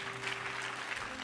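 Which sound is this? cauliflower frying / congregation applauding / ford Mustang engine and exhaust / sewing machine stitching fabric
congregation applauding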